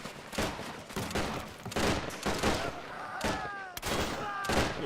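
Mortar blasts and rifle fire crackle through a WWI-era strategy battle set in the 1919 German Revolution, with repeated loud bursts and overlapping volleys across the whole stretch and high whistling tones near the end.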